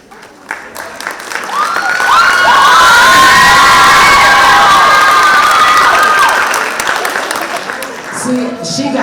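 Audience at a school winter harp concert bursts into loud applause, with shrill children's shouts and cheers rising over the clapping, peaking in the middle and tapering off toward the end.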